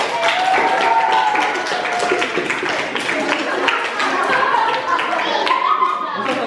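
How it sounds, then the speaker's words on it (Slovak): Hands clap quickly and steadily at close range as a small group welcomes a guest named Fifko at a summer camp, and excited voices talk over the applause throughout. "S obrovským potleskom privítajte Fifka!"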